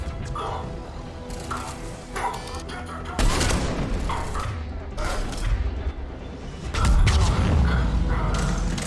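Gunfire rings out in a Mass Effect 3 firefight around a pod, with bursts of shots and mechanical clanks building louder toward the end amid dense battle noise.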